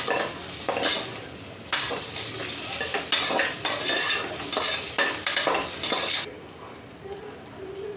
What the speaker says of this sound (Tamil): இஞ்சி பூண்டு பேஸ்ட் கொஞ்சமாக சேர்த்துக்கோங்க. ஓகே, நம்ம நல்லா மிக்ஸ் பண்ணிக்கலாம்.